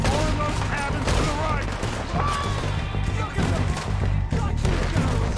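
Rifle gunfire in Red Dead Redemption 2 during a train robbery: dense, loud volleys of shots crackle almost nonstop across the whole stretch, layered over a busy game soundscape with no pauses.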